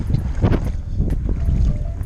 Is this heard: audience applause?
no